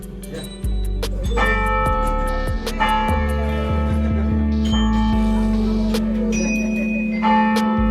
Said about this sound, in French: Isaac, tu veux faire du carillon?